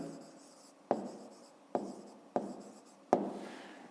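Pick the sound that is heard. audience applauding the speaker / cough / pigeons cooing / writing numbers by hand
writing numbers by hand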